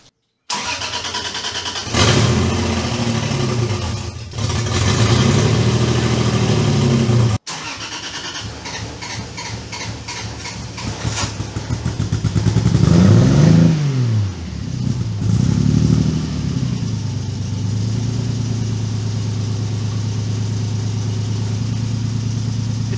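A turbocharged 2JZ engine swapped into a Datsun 260Z with a custom stainless exhaust cranks, catches and revs loudly close by. Rising and falling revs sweep over a rough idle, with a brief cutout partway through.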